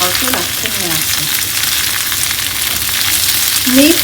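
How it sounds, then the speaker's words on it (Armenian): Onion and peppers fry together in a pan with a loud, continuous sizzle and crackle, close and steady from start to finish, with brief faint voice-like tones near the beginning and end. "Ես շարունակում տապակել արդեն միասին։"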